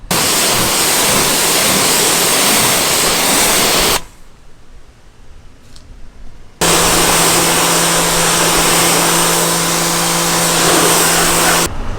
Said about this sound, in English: It just sheets right off the car.